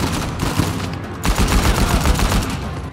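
Loud, sustained automatic gunfire from the action game Uncharted 4, with dense rapid bursts that swell after a brief dip and then keep going.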